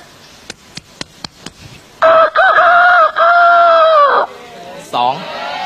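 A few sharp taps, then a voice imitating a rooster crowing with a long, drawn-out call in close, loud bursts.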